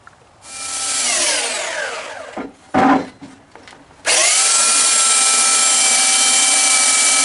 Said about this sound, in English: I'm gonna have to sand that down just a little bit.